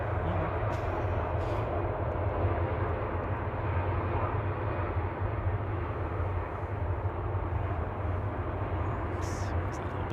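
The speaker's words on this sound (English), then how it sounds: "It's that little biz jet." A small business jet at Manchester Airport roars steadily, its broad engine noise sustained and fairly close, with faint voices in the background.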